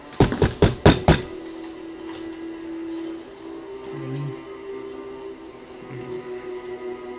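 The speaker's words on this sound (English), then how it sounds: "So you guys knock." About five quick, sharp knocks land on a door close by in a steady rhythm. A quiet, humming room tone with faint low murmurs follows.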